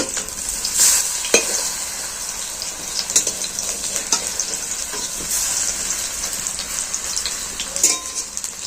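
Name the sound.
batter-coated piece frying in oil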